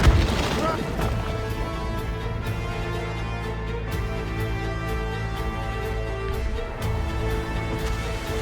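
Naval cannons in Assassin's Creed Rogue booming heavily under a constant roar of wind, sea and crew shouts, a loud opening blast followed by rumbling low thuds.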